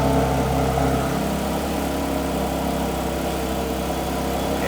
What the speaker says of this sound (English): Okay, that's the cold start.